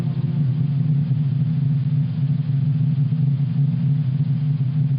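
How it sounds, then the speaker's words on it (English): Sun's vibrations as recorded by NASA's Solar Dynamics Observatory, sped up from forty days into seconds: a steady, loud, deep droning rumble that holds unchanged throughout, with no voices. "But if you speed up 40 days recording into a few seconds, this is what you get."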